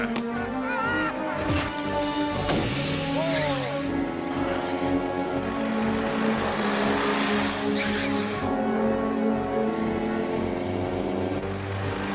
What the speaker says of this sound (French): Il y a une voiture là-bas.